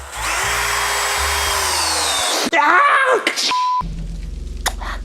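Electric hammer drill motor running under load, a loud steady whine that bogs and drops, then cuts out abruptly, followed by a short burst and a lower hum.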